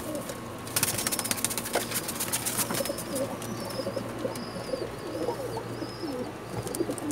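Pakistani pigeons kept in pairs on a rooftop coo repeatedly in soft, low murmurs, with a burst of rustling or wing flutter early on and occasional faint chirps over steady background noise.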